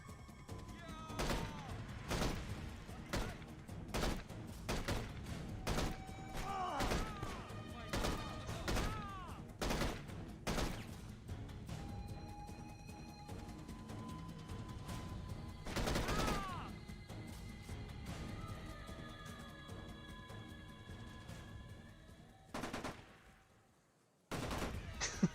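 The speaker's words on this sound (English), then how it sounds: "The music faded out, but I'm still getting shot at." AK-47 gunfire in a video game, sharp bursts and single shots scattered across the stretch, some in quick clusters, mixed with game effects and tonal chimes, moderately loud with a brief drop to silence near the end.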